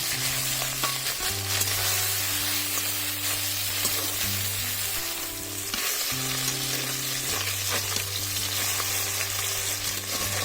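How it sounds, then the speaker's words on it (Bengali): Small fresh puti fish frying in hot oil, a loud continuous crackling sizzle up close, with a steady low droning hum shifting pitch underneath and no talking. "মাছগুলো বেশ ছ্যাঁকা তেলে অল্প অল্প করে ভেজে নিচ্ছি"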